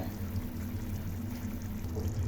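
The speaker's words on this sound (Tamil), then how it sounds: "மீல் மேக்கர் உருண்டை, அதை அப்படியே போட்டுருங்க" Fried meal maker (soya chunk) balls drop into a pan of simmering hotel-style gravy, giving a steady, close bubbling and pouring-like wash with a continuous low rumble and no speech.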